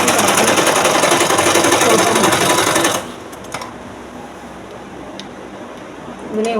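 A sewing machine stitches a blouse with a steady, fast, dense whir for about three seconds, then stops abruptly, leaving quiet room tone with a few faint taps.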